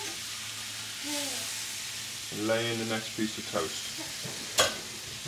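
Butter sizzles and fizzes in a hot pan as someone talks over it, with a sharp scrape or clatter near the end.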